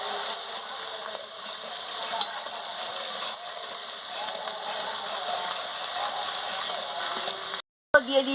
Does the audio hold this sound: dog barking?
no